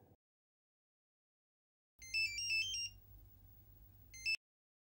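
A telephone rings in an indoor TV serial scene, giving short bursts of electronic trilling tones, a longer ring followed by a brief second one, with near silence around them.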